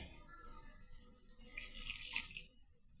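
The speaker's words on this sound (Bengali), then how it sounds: "সামান্য একটু পানি দিয়ে দিচ্ছি।" A small splash of water poured into a pan of rohu fish kalia cooked with grated tomato, heard as a soft, quiet trickle that swells briefly midway and then fades.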